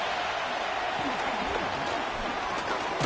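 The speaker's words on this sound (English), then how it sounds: "This crowd into it now as we get to third down." A football stadium crowd roars steadily in the distance during a broadcast, a wide, continuous wash of cheering beneath a commentator's voice.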